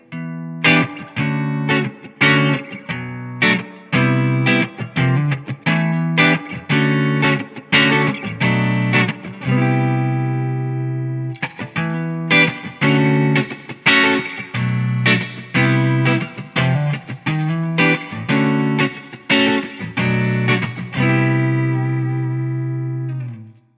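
An electric guitar plays through room and spring reverb pedals on a pedalboard. Plucked notes and short chordal phrases ring out in bursts, with a shimmering, lingering tail after each phrase, and there are no voices.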